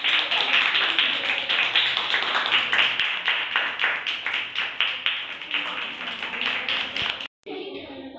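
A classroom of schoolchildren claps for themselves in a quick, rhythmic burst of many small hands, fairly close, then cuts off abruptly near the end, followed by quieter room sound.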